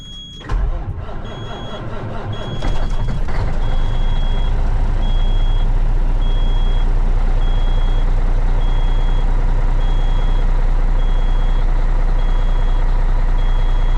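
Caterpillar ACERT diesel engine with 18-to-1 compression cranks briefly, fires and settles into a loud, steady close-up idle that runs continuously with no talk.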